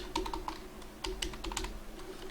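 Rapid bursts of keystrokes on a computer keyboard, close and clear, with short pauses between clusters of typing and no voices.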